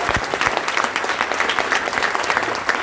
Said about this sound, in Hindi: मैं उनके लिए चाहूंगा आप जोरदार तालियां हो जाएं